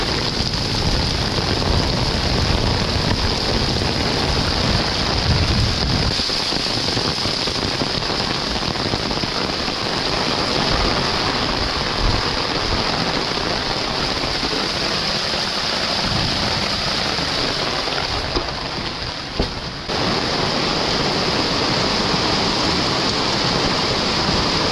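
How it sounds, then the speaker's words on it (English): Extreme heavy rain pours down steadily on and around an old log cabin, a dense, loud, unbroken hiss with close drumming drops throughout. "usually we don't get such heavy rains, and this is pretty extreme level right here"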